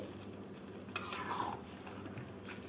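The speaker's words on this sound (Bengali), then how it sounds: "এবার এর মধ্যে দিয়ে দেবো ভেজে রাখা আলু আলু দিয়ে নাড়াচাড়া করে" Cabbage, fried potatoes and spices are stirred together in a pan, giving a single brief scraping stir over a faint, low background. The sound is close but soft.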